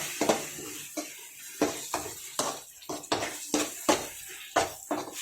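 Spoon scraping and knocking against a cooking pan as masala spices are stirred, about a dozen sharp metallic strokes in a steady rhythm, close and loud with faint sizzling between, no talk.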